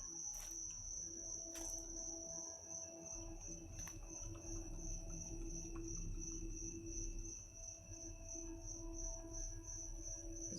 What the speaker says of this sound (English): It's trying to lull me to sleep with the sound of cicadas.